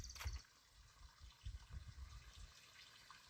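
Creek water flowing in rocky, brushy terrain on lower Mount Wilson, Nevada, a faint steady trickle and babble heard from a distance, with occasional close knocks and rustles.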